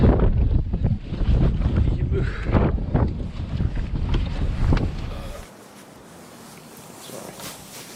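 Heavy wind buffeting a microphone on a boat while bass fishing in deep water in winter, loud rumbling gusts for about five seconds, then easing to a softer hiss.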